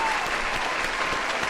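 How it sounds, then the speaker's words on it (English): Audience applause at an award show, a dense steady wash of many hands clapping at close range, sustained evenly throughout without pause. "Very much deserved round of applause"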